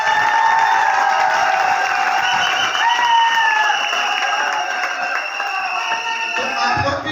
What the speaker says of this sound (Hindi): किशोर भाई के लिए सभी तालियां बजा दें।